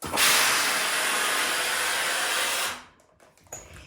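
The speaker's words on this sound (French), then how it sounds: "on va venir tout simplement lui passer de la vapeur" Steam blown onto a crochet leaf, a loud continuous hiss lasting under three seconds before cutting off into quiet handling sounds.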